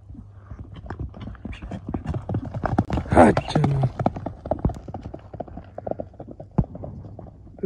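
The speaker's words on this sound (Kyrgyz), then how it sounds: "Эми мындай улактын аттарын албетте чуркаганын да көрүш керек" Horses used in the ulak (kok-boru) game run outdoors, their hooves thudding in quick, irregular beats near and moderately loud, with voices talking over them and a brief whinny midway.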